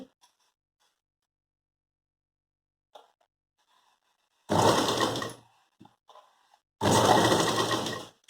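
A sewing machine stitches a carry bag made from blouse fabric in two loud, close bursts of about a second each, separated by near silence with faint handling clicks.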